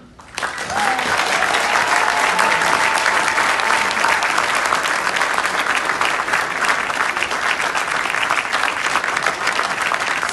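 Sustained applause from a conference audience at a Tanzanian investment forum, loud and steady throughout with dense overlapping claps and no break.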